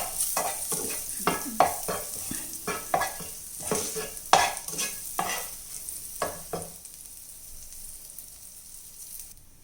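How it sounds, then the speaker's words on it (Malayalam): Two sprigs of curry leaves crackle and sizzle in a pan of ghee with a run of sharp, close pops and scrapes as they are stirred. The sound fades to a quiet hiss near the end, with no talk. "ഇനി ഈ പാനിലേക്ക് തന്നെ നമുക്ക് 2 തണ്ട് കറിവേപ്പില ഇട്ട് വറുത്തെടുക്കാം."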